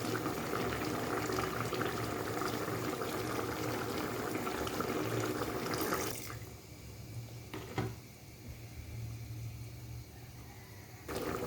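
Fish curry broth simmering in a pot, a dense bubbling boil that drops suddenly to a quieter, thinner simmer with a single soft clink partway, near and steady, no talk.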